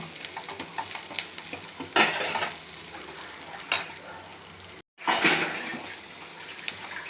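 Chillies and onion sauté in a pan with a steady sizzle, broken by a few louder bursts of stirring and scraping; no one speaks.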